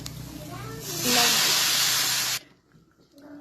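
Oil hisses and sizzles loudly as bottle gourd is cooked in a pan, a steady broadband spray of frying noise lasting over a second before cutting off abruptly, with kitchen sounds and a voice around it.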